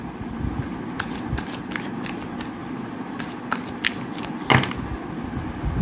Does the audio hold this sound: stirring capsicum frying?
no